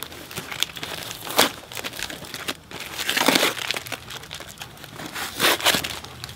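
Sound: unwrapping gift wrapping paper

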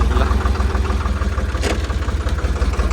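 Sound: tractor engine running

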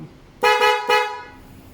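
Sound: motor scooter electric horn honking

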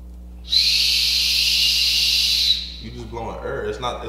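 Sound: blowing air into a whistle

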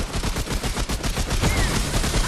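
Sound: gunfire in Remnant: From the Ashes video game

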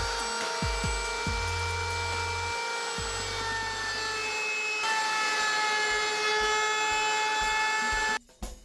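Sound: router with 1/4 inch round over bit rounding guitar body

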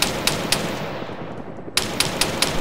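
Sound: machine gun fire in video game

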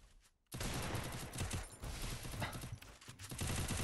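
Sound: gunfire in the video game Free Fire

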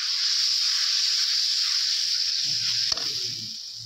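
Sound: spices frying in a pan

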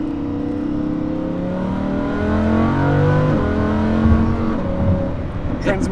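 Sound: Lamborghini Huracan LP610-4 accelerating and shifting gears

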